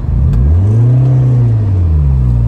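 A Rover 216 GTI cabriolet's engine runs steadily while the car is being parked. It hums low and close, with the pitch rising and then easing back over a few seconds, and nobody talks.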